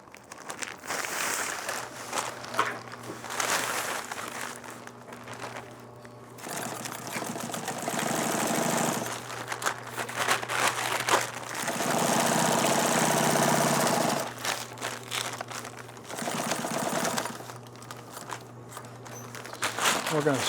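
A sewing machine stitches a Tyvek gown in bursts of rapid mechanical whirring, pausing between runs as the fabric is turned, with a voice talking throughout.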